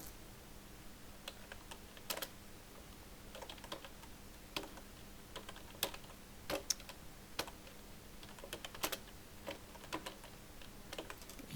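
Keys on a computer keyboard are tapped in short irregular bursts while text is entered in MS Word, crisp close clicks over a faint steady room hum.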